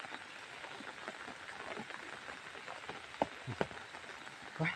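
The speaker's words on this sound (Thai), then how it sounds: "แต่ฝนจะตกมาเรื่อยๆอยู่" Steady rain patters outdoors near a forest, a soft continuous wash of drops with a few louder, sharper hits standing out.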